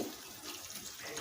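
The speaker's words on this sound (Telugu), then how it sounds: "ఇప్పుడు చూడండి, కొద్దిగా వాటర్ వేస్తున్నానండి." Water pours into a cooking pan while making a bottle gourd, corn and tomato curry, a brief soft steady splashing stream, quiet and close, with no talk.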